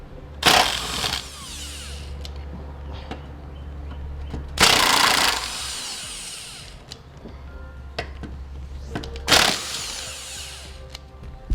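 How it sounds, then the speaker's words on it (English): A power tool with a 15mm socket removes bolts from a spring hanger on a 2006 Chrysler Town and Country. It gives three loud, buzzing bursts about four seconds apart, with quieter clicks and clanks of handling between them. "Use a 15mm socket to remove them."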